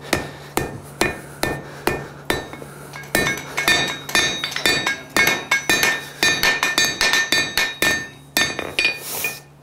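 A hammer forges the edge of a hand-made blade on an anvil, ringing out in a steady run of sharp metallic strikes, loud and close, with brief pauses between bursts and no talking.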